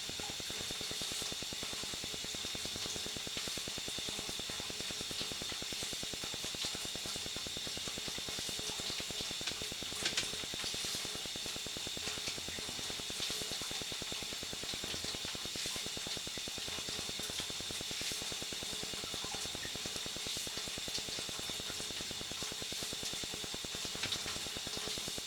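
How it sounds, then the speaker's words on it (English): Steady broadband rush of water running from a laundry tub sink down through a sewer pipe that still holds a remaining root mass, a continuous even hiss with no pauses. "We have water flowing in the laundry tub sink to observe flow characteristics"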